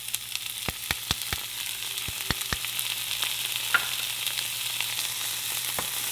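Shrimp fry in a pan with a continuous soft sizzle, with sharp utensil clicks and taps against the pan close by in the first seconds.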